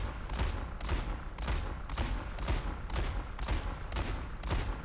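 Rapid, evenly spaced gunshots fire in Overwatch aim training, about two sharp cracks per second in a steady rhythm at a moderate, somewhat distant level, with no talk.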